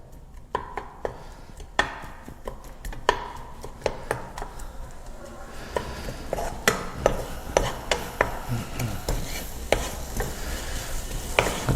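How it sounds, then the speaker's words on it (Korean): Garlic and eggplant sizzle and crackle steadily in a hot pan, with repeated sharp scraping and clacking of a utensil stirring throughout. "이렇게 볶는 소리가 들리는데요"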